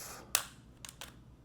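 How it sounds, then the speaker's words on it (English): A PS5 controller shell snapping off in a sharp plastic snap, followed by two softer clicks close up, all over a quiet background hum. "You'll just hear a couple of snaps and just lift the whole thing off."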